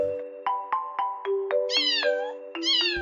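A domestic cat meows repeatedly, several short close calls followed by two longer rising-and-falling meows, loud and clear with no speech.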